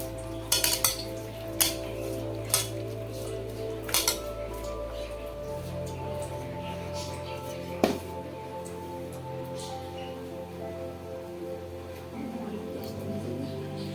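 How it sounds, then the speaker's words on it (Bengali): A spoon scraping and clinking against a wok while fish eggs are mixed into oil, with scattered metallic taps over a steady low kitchen hum and faint sizzle. "কড়াতে পরিমাণ মতো তেল দিয়ে নিচ্ছি, ডিমটা মাখিয়ে নিচ্ছি।"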